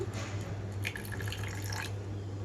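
Brief trickle of water splashing and dripping into a bowl of semolina idli batter, soft and close, with a low steady hum underneath.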